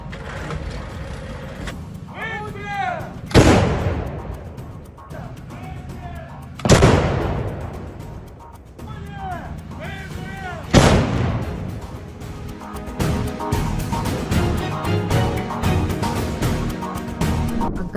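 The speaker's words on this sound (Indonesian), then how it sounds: "awak senjata self-propelled pindah ke posisi menembak dan menyerang benteng angkatan bersenjata Ukraina dengan peluru 203 mm" Self-propelled artillery firing 203 mm shells, three heavy booming blasts at regular intervals over rumbling engine noise and a busy, cluttered background.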